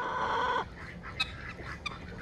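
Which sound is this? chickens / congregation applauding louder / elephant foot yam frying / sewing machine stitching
chickens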